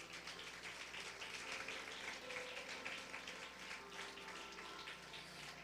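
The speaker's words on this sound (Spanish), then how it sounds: "Dale un fuerte aplauso a él." A church congregation applauds a speaker, a dense, steady wash of many hands clapping together that holds at an even level from start to finish with no voices standing out.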